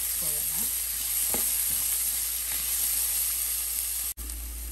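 Onion, curry leaves, ginger and green chilli fry in a pan for quinoa suji upma, giving a close, steady sizzle with brief stirring scrapes throughout and a soft knock near the end.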